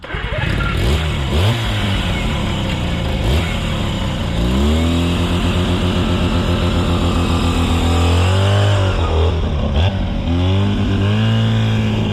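Big bore two-stroke twin-rotor engine catching and revving, a loud close roar that rises and falls in repeated throttle blips before settling into a steadier high idle.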